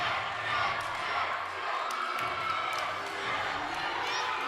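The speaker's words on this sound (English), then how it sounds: "The crowd and the girls are chanting a 10 for that floor team." Crowd and gymnasts chanting for a perfect 10 after a floor routine at the MPSF Gymnastics Championships, a steady roar of massed voices filling a gym with rhythmic rises and shouts throughout.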